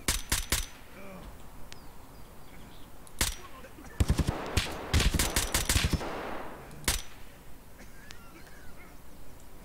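Gunfire in a video game firefight on the Woods map while sniping against a Scav guard: scattered sharp, cracking shots, a few isolated ones early, then a tight cluster of rapid reports in the middle and another lone shot later, with quieter background between.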